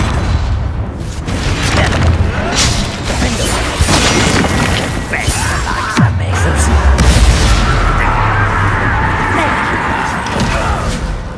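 Confringo blasting spell going off in Hogwarts Legacy: a loud booming burst near the six-second mark amid continuous battle noise, crashes and thuds, with game music and character voices mixed in throughout.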